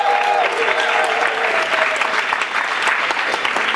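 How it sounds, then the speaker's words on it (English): Dense, steady applause from an audience at a Fossil of the Day award event at the COP21 climate summit, honouring Climate Action Network, filling the room without a break for several seconds. "Big round of applause for CAN."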